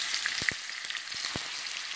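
Chicken pieces frying in hot oil in a karahi over high heat, a steady bright sizzle with a few soft thuds and stirring knocks, close up and alone.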